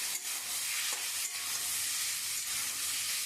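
Cauliflower fries in a pan with a steady, soft sizzle while being stirred, faint scraping movements rising now and then over the continuous hiss.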